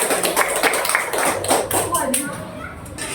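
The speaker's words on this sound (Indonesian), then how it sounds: "Tepuk tangan untuk kita semua" Students in a classroom applaud together as a lesson ends, with a dense burst of overlapping claps that fades over a few seconds while children's voices chatter underneath.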